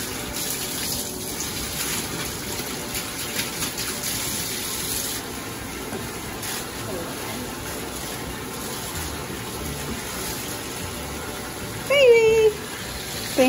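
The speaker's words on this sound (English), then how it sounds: "Now it's time to rinse her off." Steady running water gushing while a Lhasa Apso dog is rinsed in a bath, continuous and close, with a brief voice and a higher squeak near the end.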